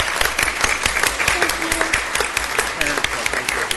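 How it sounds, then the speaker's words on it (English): Audience applause at a school board meeting, a steady wash of many hands clapping throughout, loud and dense with some chatter mixed in. "Give them a round of applause from McCullough."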